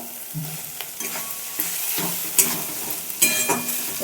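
Tomato goes into a frying prawn curry made with freshly cooked jumbo river prawns, with a steady sizzle under repeated spoon scrapes and stirring clatters against the pan.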